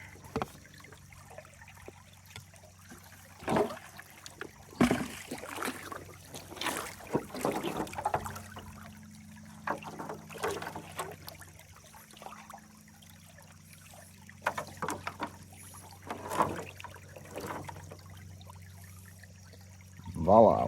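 A small gold sluice dropped into a shallow stream, giving a brief splash and trickle of moving water with intermittent knocks and handling noises, fairly close and moderately quiet.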